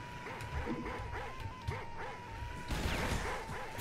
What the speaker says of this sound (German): Ich höre die Hunde.